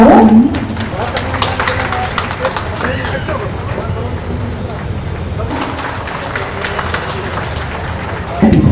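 Crowd applause rises at a police passing-out parade ceremony for newly appointed trainee deputy superintendents on an outdoor ground, loud sustained clapping with babble and an announcer's voice over it.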